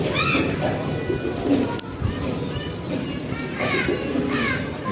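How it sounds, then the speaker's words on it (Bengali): An old-breed tiger pigeon coos close by in soft, repeated low calls, with a little background noise around them. "একটা পুরান জাতের কবুতর"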